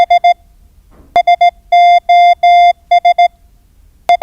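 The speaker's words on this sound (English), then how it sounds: "That is Morse code." Morse code sent on an old overland telegraph line: a run of loud, clean tone beeps with short dots and longer dashes, in clustered groups with brief pauses, heard alone and up close.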